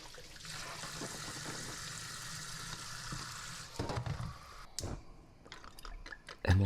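Small tomatoes get a quick rinse under a running tap in a kitchen, a steady hiss of flowing water for several seconds, then a few louder splashes and knocks as the tomatoes are handled.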